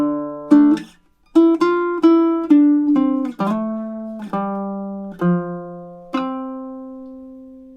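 Baritone ukulele picking a melodic riff over two measures, single plucked notes ringing out clearly in a steady rhythm, some held and decaying, played alone and close.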